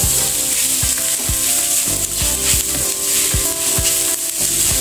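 Spice masala and crisp curry leaves frying in hot oil over a low flame, a loud steady sizzle broken by regular scraping stirs against the pan, close by with no voices.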